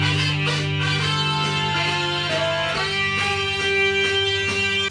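A song from an album plays steadily, a full band with sustained tones and rhythmic accents, loud and continuous with no talking over it.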